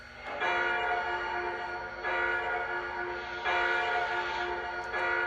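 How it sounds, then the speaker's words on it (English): Bell on a Lionel LC+ 2.0 Whispering Rails Hudson model locomotive clangs in steady repeated strikes, each ringing tone sustained and overlapping the next, loud and close with no talking. "Here's our bell."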